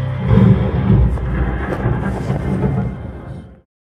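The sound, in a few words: thunderstorm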